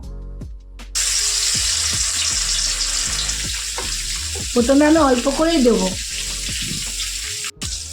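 Loud, steady sizzling of fish frying in hot oil fills the clip, with a person speaking briefly over it and a few clinks.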